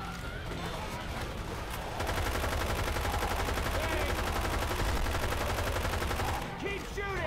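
Sustained automatic gunfire rattles in Left 4 Dead 2 during a frantic co-op horde fight, dense and loud for most of the stretch, with players shouting excitedly over the shooting.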